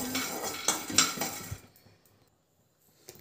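Peanuts and cumin seeds dry-roasted in a pan, heard as close rattling and metallic clinks of a spoon stirring against the pan for about a second and a half, then near silence with one last faint clink.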